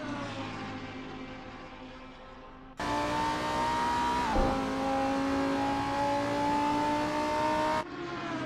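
A Lamborghini Huracan GT3 race car at Monza in a racing game revs hard and steady, its loud engine note climbing and then holding near the listener with no talk.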